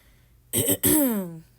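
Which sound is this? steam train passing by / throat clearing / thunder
throat clearing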